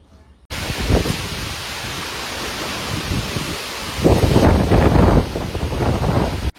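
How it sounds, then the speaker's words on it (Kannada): Strong wind blowing outdoors, buffeting the microphone in a steady broadband roar that swells into heavier gusts partway through, with no voices. "ಫುಲ್ ಗಾಳಿ ಇದೆ ಹೊರಗೆಲ್ಲ."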